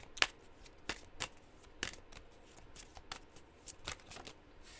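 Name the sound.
shuffling and drawing a spirit message card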